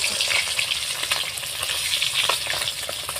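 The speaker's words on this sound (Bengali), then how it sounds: "আমি মাছগুলো দেখুন চারা পোনা মাছগুলো ভেজে নিচ্ছি" Small rohu fish frying in hot oil, a steady dense sizzle and crackle that fills the whole stretch, close and loud with no breaks and no voices.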